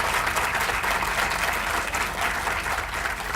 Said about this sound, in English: give Mike Hopkins a round of applause